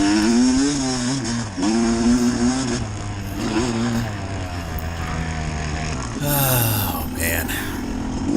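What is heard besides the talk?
dirt bike engine revving on a grass race track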